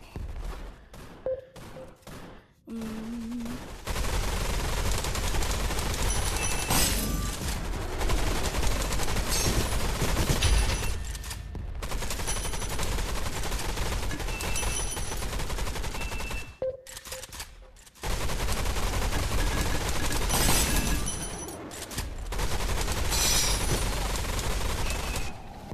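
Rapid automatic gunfire and shooting bursts from the online shooter game Gun Raiders, loud and nearly continuous across the clip, broken by a few short quiet gaps, with no talking over it.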